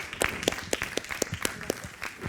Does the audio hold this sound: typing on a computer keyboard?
no